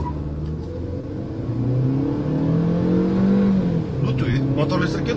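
A 2023 Suzuki Grand Vitara hybrid accelerates hard with traction control off, its engine note climbing steadily and holding a loud, close drone, with no voices over it.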